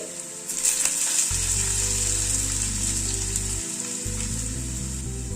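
Boiled potatoes sizzle in hot white oil in a kadai: a steady, close frying hiss that continues unbroken, with a low background hum beneath.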